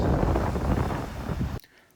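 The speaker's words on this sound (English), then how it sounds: "Very windy right now." Strong wind buffets the microphone at Fortescue Beach, a loud, roaring rumble that suddenly cuts off near the end, leaving faint quiet.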